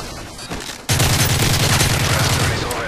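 Rapid automatic gunfire in Modern Warfare 3, a capture-the-flag match, erupts abruptly after a quieter start and rattles on as a dense, loud, steady burst of shots to the end.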